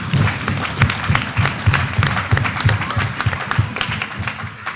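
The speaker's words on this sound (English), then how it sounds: "I want you to give them a round of applause." Applause at a credit union annual general meeting, a smaller crowd clapping close by with distinct, uneven individual hand claps and light thumps rather than a smooth roar.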